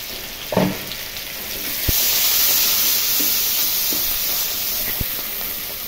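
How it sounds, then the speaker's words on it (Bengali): Sliced onion drops into hot oil left from frying fish for a thin hilsa broth with new potatoes and tomatoes, bursting into a steady, close sizzle that holds for several seconds, with a couple of sharp utensil clinks. "আমি মাছ ভাজার দলের মধ্যে পেঁয়াজটা কেটে দিয়ে দিচ্ছি।"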